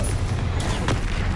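Confringo explosive spell cast in the video game Hogwarts Legacy on PS5, a loud, dense roar of blast noise with a couple of sharper bursts layered on top, continuous throughout.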